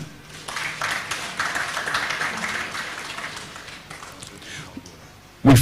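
Audience applause at a live television panel event, steady clapping from the crowd that swells and carries on for several seconds with voices murmuring underneath, ending in a louder burst close by.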